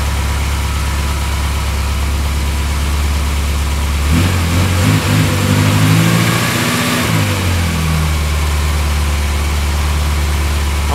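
A 1970 Morris Minor engine running loudly and steadily close by, with a rise in revs midway before settling back to a low idle.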